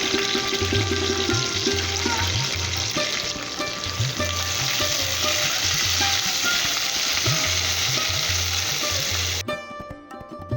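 Slit green chillies and diced onion fry in a pan with a loud, continuous sizzle and crackle, broken by rhythmic stirring scrapes, before the sound drops away near the end.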